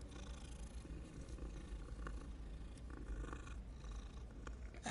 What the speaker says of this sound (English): I didn't see this cat before.